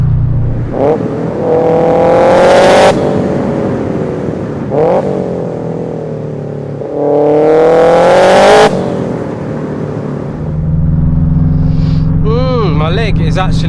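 A 500 BHP Subaru estate car revs hard through the gears, loud and close, with two long rising accelerations each cut by a shift, then a lower steady drone as the car settles.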